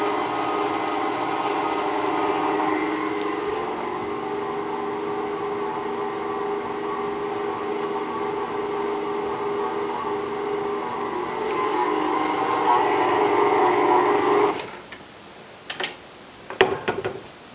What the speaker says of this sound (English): So we'll lower that down again and mix to combine these ingredients with the dry ingredients